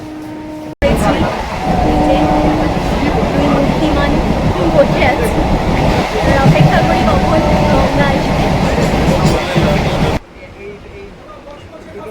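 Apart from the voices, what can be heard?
train ride in Kolkata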